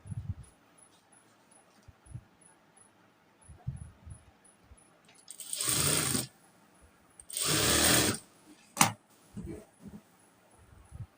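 A sewing machine stitching a frock sleeve runs in two loud sustained bursts of a couple of seconds each, followed by a short clack and quiet handling sounds in between.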